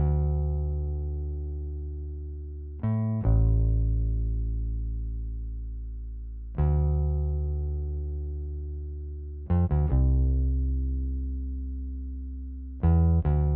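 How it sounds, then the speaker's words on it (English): A deep, round Rickenbacker electric bass plays sustained low notes with short plucked accents between them, ringing alone with no other instruments. "And then as usual, Rickenbacker bass, it's like my go-to, so it sounds like this."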